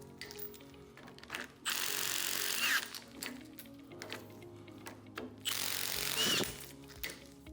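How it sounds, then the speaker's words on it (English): An impact wrench shears off the second shear head on each side of bolts on a mechanical tension repair splice, giving two loud sustained bursts of rapid hammering separated by quieter mechanical rattling, with no talk. "Now we'll shear off the second shear head on each side."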